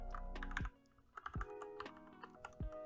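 Clacky keystrokes on an XPG Mage full-sized gaming keyboard fitted with Kailh linear red mechanical switches, a close burst of taps, then a pause and a few more scattered presses with firm bottom-out thuds.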